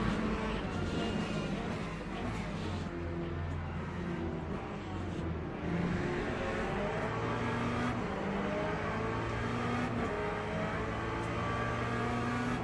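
A Mercedes-AMG race car in Le Mans Ultimate drones as a steady, loud engine roar, continuous and close throughout with no clear gaps.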